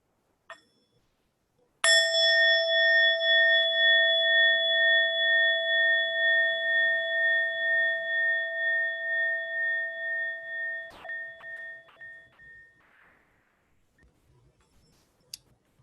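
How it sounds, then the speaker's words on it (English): A meditation bell is struck once and rings out with a long, clear, pulsing tone that slowly fades over about ten seconds, followed by a few faint clicks and near silence. "And with the sound of the bell, we'll end this meditation."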